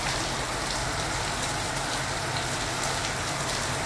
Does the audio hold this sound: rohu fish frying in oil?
no